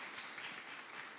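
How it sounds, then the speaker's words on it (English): A brief burst of dense, steady applause from an audience at a youth forum on climate and the environment, welcoming a keynote speaker, heard faintly and evenly throughout. "Let's give her a big round of applause"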